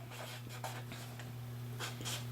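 A drying marker pen scratches and squeaks across paper in short, close strokes over a steady background hum, with no talking.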